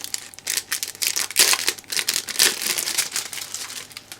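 Crinkly plastic packaging of a Bitfenix Flo 2 gaming headset being opened up close, a steady run of crackling and rustling bursts with sharper peaks as the wrapping is pulled apart.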